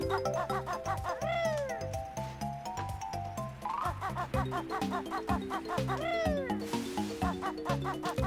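A house cat meows a few times in a room, its short cries mixed in with loud, busy game music from a Banjo-Kazooie session.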